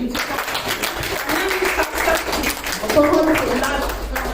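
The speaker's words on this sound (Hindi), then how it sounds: "तालियां बजाएंगे" Audience applause at an open mic Hindi poetry event, a steady dense clapping lasting about four seconds with voices mixed in underneath.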